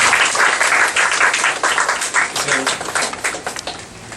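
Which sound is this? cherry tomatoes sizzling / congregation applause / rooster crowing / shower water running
congregation applause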